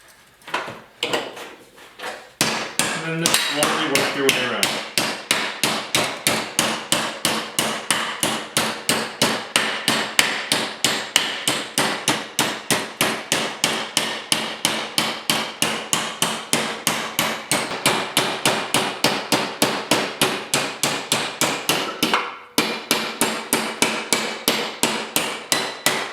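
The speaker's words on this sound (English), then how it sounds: "I'm going to hammer that way." Steady, rapid hammer blows ring out on a steel patch panel held in a vise during rust repair on a 1939 Chevy two-door, loud and close, with a brief pause near the end before the pounding resumes.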